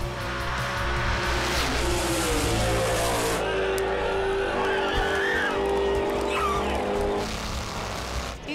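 A 1988 Camaro drag racing a 1,000-plus horsepower 1970 Chevelle, with loud sustained engine roar that climbs in pitch, then shifts and keeps howling steadily down the strip.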